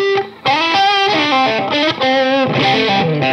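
An Epiphone '63 Joe Bonamassa SG Custom electric guitar plays a melodic line with a bright, slightly squawky, nasal tone and light distortion, notes ringing clearly with no talking.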